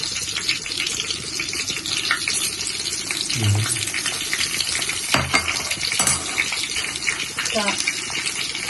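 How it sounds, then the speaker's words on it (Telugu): Garlic, cumin, mustard seeds and dried red chillies frying in hot oil, a steady hiss and crackle with scattered pops and stirring clinks, while a voice speaks at moments over the sizzle. "ఆయిల్ హీట్ అయిన తర్వాత ఎల్లుల్లిపాయల రబ్బులు వేసుకోవాలి"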